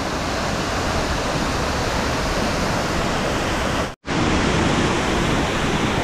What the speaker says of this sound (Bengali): ঝর্ণার সামনে চলে এসেছি।